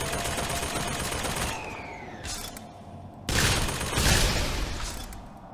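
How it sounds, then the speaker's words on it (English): A Tommy gun fired in BioShock Infinite: Burial at Sea, a sustained rattling burst of automatic fire, then a pause and another loud volley, close and without speech. "I love a Tommy gun."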